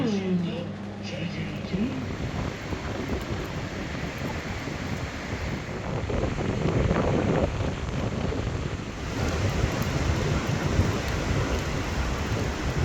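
Gusty wind roars across the microphone in a broad, steady rush that swells louder midway, with faint voices underneath, on an off-road motorcycle route in windy, cloudy weather after rain.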